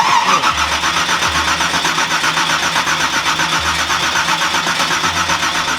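A one-of-a-kind Nissan GTR Black Edition drag car with a 1,500bhp V8 cranks and catches, then runs with a loud, rough idle and throbbing pulses, close up with no talk.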